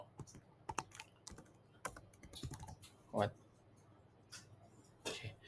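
Computer keyboard being typed on to enter a customer name in a search field, quick irregular bursts of close, light clicking keystrokes with short pauses between them.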